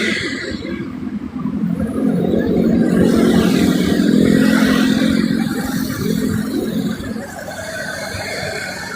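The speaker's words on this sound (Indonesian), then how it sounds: "Kendaraannya lumayan cukup ramai lancar, bukan yang padat atau macet." Busy night road traffic in Bogor with cars and motorcycles passing, a dense rumbling engine roar that swells in the middle as vehicles go by close, then eases, with no clear speech.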